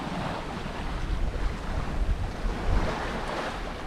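Wind and waves during a squall on an Atlantic crossing: constant, loud, gusting wind roar mixed with the wash and surge of water, with deep low rumbles rising and falling throughout.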